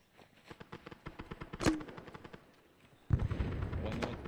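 Automatic gunfire in Arma 3 during an SOG Mike Force session, rapid bursts of shots with a sharp louder crack midway, then a heavier denser volley near the end, moderately distant.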